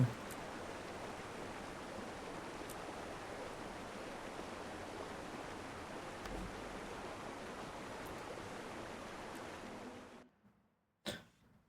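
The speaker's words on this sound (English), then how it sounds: "I couldn't really hear the music over the waterfall." Waterfall in the Guild Wars 2 video game, a faint steady broadband rush of falling water that runs continuously for about ten seconds before dropping away, followed by a brief sharp burst near the end.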